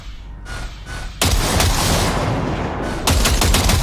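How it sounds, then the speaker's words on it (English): A video game gun being test-fired: faint taps at first, then a loud sustained burst, a short pause and a final stretch of rapid shots, all close and without speech. "See that pile of junk? Fire a short burst into it."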